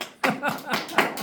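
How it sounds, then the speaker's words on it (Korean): A church audience claps together in a few quick bursts, sharp hand slaps close by with a little voice underneath. "예, 박수."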